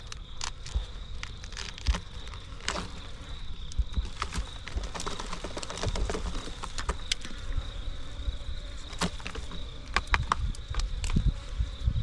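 Bees buzz around a hive built inside a pillar, a faint steady drone with scattered close passes, under sharp knocks and scraping of comb being cut away, with a thunderstorm nearby.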